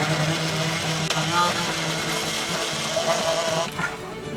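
A blender mixing egg for mac and cheese whirs loudly and steadily, its motor noise thick and grinding, then briefly drops off near the end.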